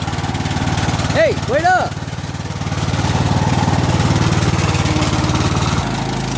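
A lawn mower engine runs steadily at close range with a constant low drone, while someone shouts briefly over it early on.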